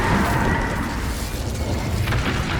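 An Incendio fire spell cast in Hogwarts Legacy, a continuous roaring, crackling blast of flame with booming low rumble, loud and sustained throughout.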